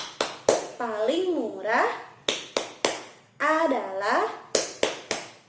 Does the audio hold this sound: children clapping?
yes